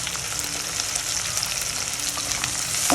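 Onion paste with salt frying in a pan for a Bengali rohu fish curry with snake gourd, a steady close hiss and sizzle running evenly throughout with no talk.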